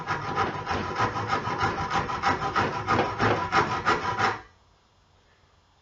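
A hand saw cuts through a piece of wood for a model boat, with about a dozen rhythmic rasping strokes, close and loud, then stopping abruptly into near silence.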